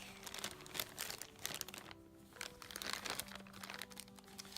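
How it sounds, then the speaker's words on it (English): A plastic bag around a doll's campfire cooking set crinkles and rustles in bursts, close and fairly quiet, with no talking. "So first, I'm going to open this bag."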